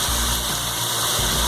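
Water poured by hand into a bowl of cut potatoes for aloo fry, a steady close splashing gush that runs unbroken for the whole moment with no talk.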